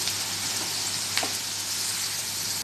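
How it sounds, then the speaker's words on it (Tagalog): Pancit bihon noodles frying with soy sauce as they are stirred in a pan, a steady broadband sizzle running throughout with a brief louder scrape of the utensil near the middle, close and fairly loud. "I-mix lang natin."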